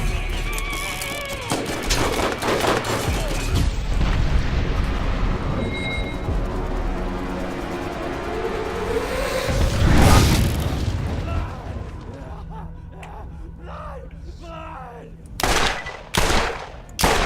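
Acid revolver gunfire in Borderlands, heavy booming shots and bursts dense through the first ten seconds over game noise, peaking in one big blast, then a few sharp isolated shots near the end.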